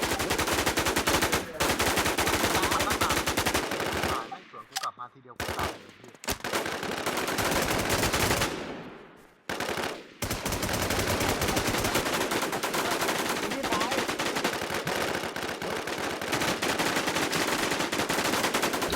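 Automatic gunfire rattles almost continuously in the zombie survival shooter WarZ AfterlifeZ, loud and dense bursts with a few short gaps of quiet before the firing resumes.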